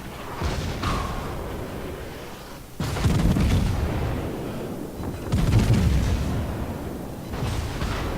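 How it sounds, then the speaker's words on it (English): In World of Warships, the French tier 7 battleship Lyon fires its main guns, producing a few heavy booming salvos spaced seconds apart, each with a rumbling tail over continuous low battle noise. "All guns are fired."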